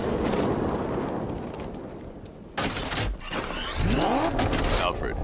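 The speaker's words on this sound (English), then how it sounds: "Explosion." A heavy explosion in the Batman Arkham Knight video game: a sudden loud blast partway through, followed by deep rumbling and a rising mechanical whine over dense, noisy game ambience.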